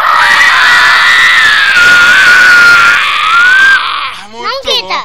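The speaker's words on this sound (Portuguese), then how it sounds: "Não grita, canal não tem grito." A high, sustained scream, loud and close, breaks out while the video game Orborun is being played, then gives way to a short burst of talk at the end.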